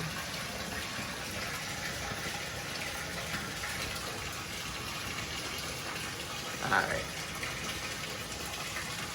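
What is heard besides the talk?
water running from a tap while testing a tub overflow drain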